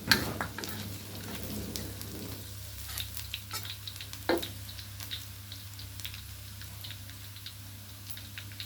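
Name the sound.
frying garlic in a pan for naem fried rice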